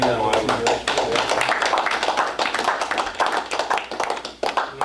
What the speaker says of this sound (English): I'd like to give a little round of applause to anybody that helped out.